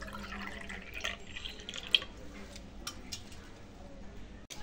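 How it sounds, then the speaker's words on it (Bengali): Water poured into a ritual pot (ghot) during an Itu puja, giving a light trickle with small splashes and drips up close, a faint background hum, and one sharp click near the end. "এবারে আমি ঘটে জল দিয়ে দেব,"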